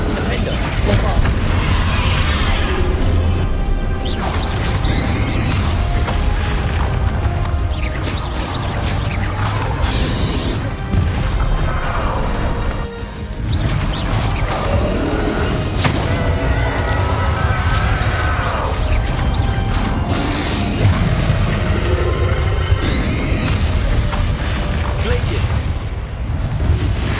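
Bombarda blasting-spell explosions from a Hogwarts Legacy final battle: repeated booms and crashes over a dense, loud wash of battle noise, with voices speaking throughout and a brief dip near the middle.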